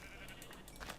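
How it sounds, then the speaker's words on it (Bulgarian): Sheep bleating in the Minecraft video game, a few short wavering game bleats over a steady background hum, fairly faint and continuous through the moment. "Овце!"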